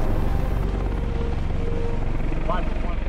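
Army National Guard helicopters drone with a steady, loud low-frequency rotor rumble throughout, mixed under ongoing talk.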